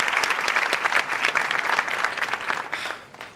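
A studio audience bursts into loud, sustained applause during a TV sitcom, dense clapping that holds steady and then tapers off toward the end.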